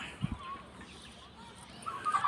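A chicken, a hen of a fighting breed, gives a brief soft cluck in a quiet outdoor yard, faint and alone with low background noise.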